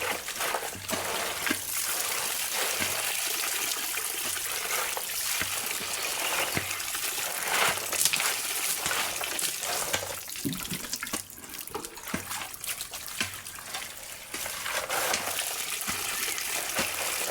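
Water is poured steadily while panning for gold at a stream, a continuous splashing gush with small trickles and bursts, close and fairly loud throughout.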